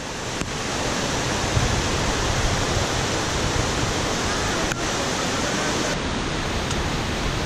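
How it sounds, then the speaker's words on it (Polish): Heavy rain pours down in a dense, steady roar of broadband hiss on a mountain trek trail to Gurgeniani waterfall in Georgia, loud and continuous throughout with no voices. "po prostu nagle się rozpadało bardzo intensywnie"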